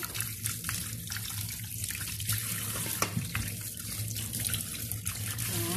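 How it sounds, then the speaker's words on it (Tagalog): Tap water runs steadily into a cooking pot at a kitchen sink, a continuous splashing stream heard close and alone, no talk over it. "lalagyan natin siya ng tubig. Pag walang tubig, hindi malalaga."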